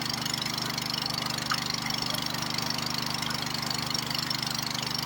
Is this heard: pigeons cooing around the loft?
no